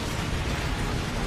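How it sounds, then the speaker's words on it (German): Continuous loud rumbling explosions in the sci-fi shooter Earth Defense Force 2025, a dense, steady roar of blasts with no pauses over the whole moment. "das sind nur die normalen Explosionen"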